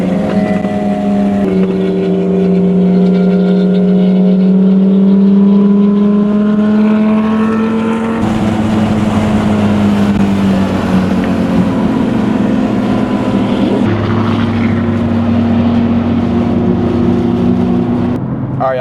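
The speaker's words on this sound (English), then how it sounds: "so we were following the supercars for a while" Several supercars drive past as a group, their engines droning and revving loud and near, pitch shifting as they accelerate and change gear, with brief talk underneath.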